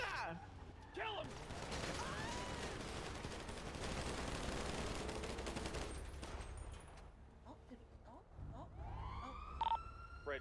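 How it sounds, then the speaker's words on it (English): Gunfire in a GTA RP video game on the No Pixel server, a dense sustained burst of shots with sirens wailing, people talking over it before it fades into scattered noise. "We're opening fire."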